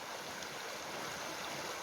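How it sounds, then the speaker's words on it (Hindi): A small, shallow river in Garhwal flows steadily, a continuous broadband rush of water with no breaks, close and even, with no voices. "प्रकृति का संगीत सुनाती हुई है नदी।"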